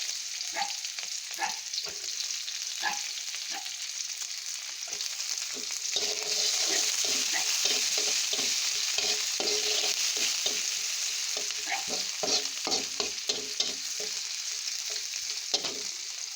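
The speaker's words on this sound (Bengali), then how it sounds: "পেঁয়াজ আর কাঁচামরিচ দিয়ে একটু ভাজা ভাজা করছি।" Chopped onion and green chilies fry in a pan with a constant hiss, broken by repeated scraping strokes of a spatula stirring them, close and fairly quiet.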